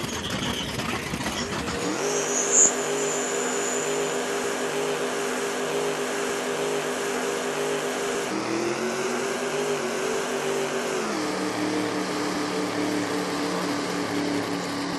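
A Pro Series drag racing car with a Stage 4 blower bogs on the throttle, its engine droning loud and steady at a held pitch that shifts and sags partway through, with no talk over it.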